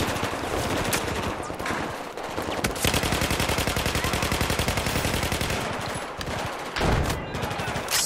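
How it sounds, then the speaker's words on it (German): Automatic gunfire in the Battlefield 4 campaign, rapid machine-gun bursts rattling loud and close in long runs, interrupted by short gaps and single heavier shots. "Hör doch auf, auf mich zu ballern."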